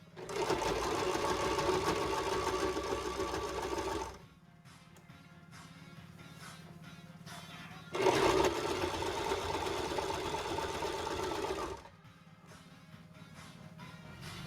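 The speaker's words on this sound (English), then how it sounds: "Keep sewing that nice and straight." A sewing machine stitches a hem on a pair of pants, running in steady loud bursts with two brief slower pauses between them, close up and without talk.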